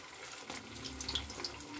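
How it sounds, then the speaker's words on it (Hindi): Sabudana rolls frying in hot oil after being lowered in one at a time, giving a steady, moderately faint sizzling hiss that continues without a break. "अब 1-1 रोल हम इसमें डालते हैं तेल में।"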